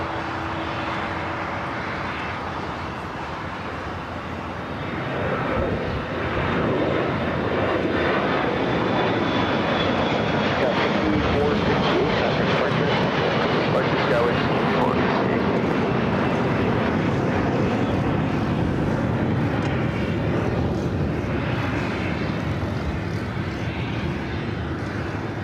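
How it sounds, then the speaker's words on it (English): An American Airlines Boeing 777-200ER arriving at LAX from London Heathrow makes a steady, loud jet roar that swells and holds for most of the span, with no talk over it. "This American 777 coming in from London Heathrow."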